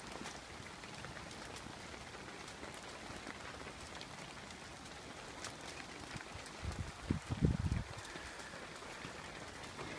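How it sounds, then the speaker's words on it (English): Steady rain falls on a wet village camp, a constant close patter over the whole stretch, with a brief louder knocking burst partway through and no talk. "but it's fairly raining now."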